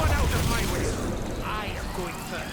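Pack-a-Punch machine dropping into place in the Call of Duty zombies map Totenreich, a loud, continuous mechanical clatter with deep booming rumble that fills the whole moment without pause.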